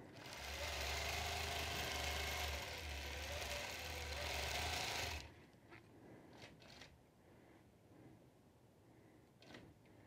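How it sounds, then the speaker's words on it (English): A sewing machine stitches quilting fabric drawn in under the needle, a loud steady mechanical whirr for about five seconds that stops abruptly, followed by quiet room noise with a few faint clicks and handling taps. "You need to be pulling that fabric in under the needle."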